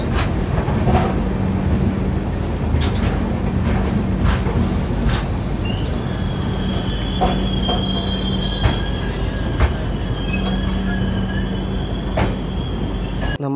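Chennai–Mangaluru Superfast Express pulling into Mangaluru Central station: loud, close wheel squeals and high screeches ride over a steady rumble and clatter of rail cars, with no talking.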